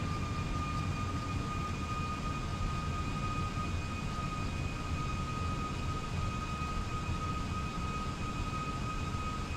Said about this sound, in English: Thrust reversers engaged.